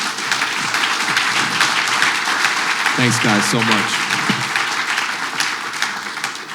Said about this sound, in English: Can you give some applause for these guys right here?